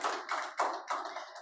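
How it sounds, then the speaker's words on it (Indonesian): A church congregation claps hands in praise, a few broad bursts of clapping rising and fading in quick succession, fairly soft and with no talking. "Tepuk tangan dulu buat Tuhan kita yang dahsyat."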